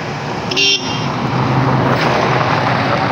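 Fast cars and trucks rush past a cyclist on an asphalt road in a steady roar of traffic, with a brief horn toot early on.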